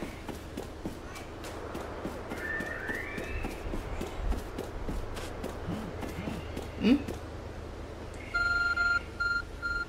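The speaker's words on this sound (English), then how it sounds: "Oh, our phone's ringing." Phone ringing in Pokemon Legends Arceus: a close electronic beeping ring of repeated short tones near the end, following footsteps and ambient game sounds.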